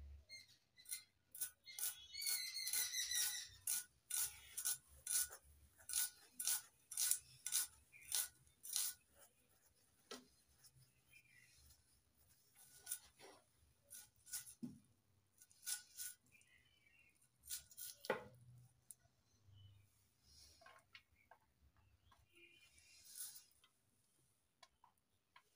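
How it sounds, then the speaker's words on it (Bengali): Peeled onion finely chopped on a board: a quick run of crisp, close knife taps, then slower scattered taps with pauses, quiet and without talk. "এবার কেটে নেব ছোট ছোট করে"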